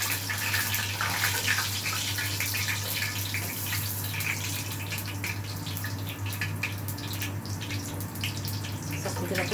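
Tap water runs steadily from a kitchen faucet as chopped onions are rinsed for Egyptian koshari, a continuous splashing hiss with a low hum beneath and someone talking faintly in the background.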